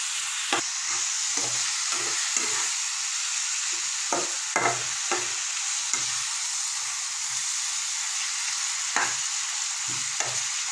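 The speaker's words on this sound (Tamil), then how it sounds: "தக்காளி வெங்காயம் எல்லாம் நல்லா வதங்கிடுச்சு." Tomatoes and onions sauté in a pan with salt, a steady close sizzle broken by repeated scraping stirs of a spoon, with no talking.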